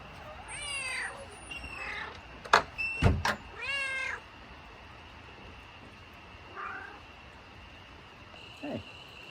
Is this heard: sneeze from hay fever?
no